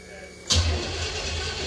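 A 1968 Pontiac engine fitted with a Holley Sniper fuel injection cranks and fires abruptly, then settles into a steady, close, rumbling idle.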